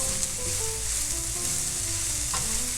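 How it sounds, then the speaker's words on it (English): Shredded coleslaw frying in a pan for shrimp tacos, wilted and lightly browned, gives a steady close sizzle that runs unbroken throughout with no talking. "the coleslaw has been cooking for maybe 4 minutes, and it's getting nice and wilted, even a little bit browned"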